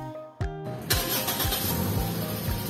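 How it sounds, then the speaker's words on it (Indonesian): Push-button start of a 2014 Toyota Yaris S TRD Sportivo: a brief starter whir, then the engine catches and settles into a steady idle close by. "Nyalain mobil ini udah start stop engine ya."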